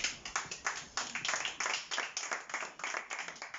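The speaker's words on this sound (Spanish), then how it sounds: "Dale un aplauso al Señor" A church congregation gives a round of applause for God during a sermon: fairly faint, steady clapping from many hands in quick repeated bursts, with no voices over it.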